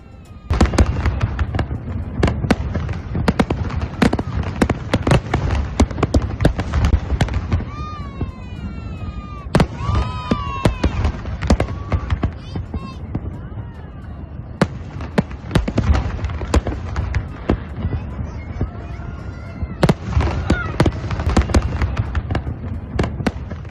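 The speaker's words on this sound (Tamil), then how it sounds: "அபுதாபியில் புத்தாண்டையொட்டி வான வேடிக்கை." New Year fireworks over Abu Dhabi, with rapid bursts and sharp pops rising and falling in irregular clusters at middle distance, plus a few whistling rockets near the middle.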